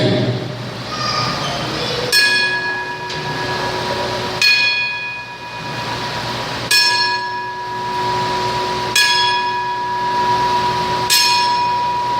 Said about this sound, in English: So we want to honor him by giving him the 10-bell count.